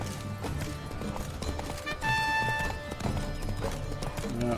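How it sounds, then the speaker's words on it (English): A horse's hooves clip-clop along a road in the video game The Witcher 3: Blood and Wine, a quick steady trotting rhythm over game music with bright tonal notes, no talking. "I can barely keep this horse on the damn road."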